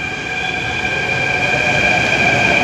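A Delhi metro train rumbles past close by in a loud, steady roar with a sustained high whine, and no one speaks.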